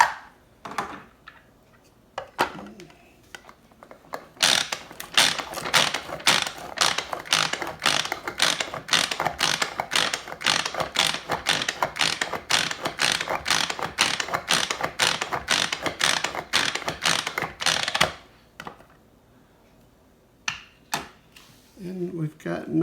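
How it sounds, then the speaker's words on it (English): Manual food processor chopping eggs: a rapid run of sharp plastic ratcheting clicks from repeated pulls of the cord, steady and close for about twelve seconds, with brief speech before and after. "we've got our manual food processor. We're going to put some eggs in here."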